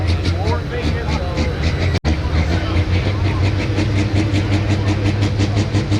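Pro stock pulling tractor "Glutton for Punishment" roaring at a tractor pull in Osceola, Iowa, its engine a loud, steady, continuous drone for several seconds with a brief dropout, a voice talking over it.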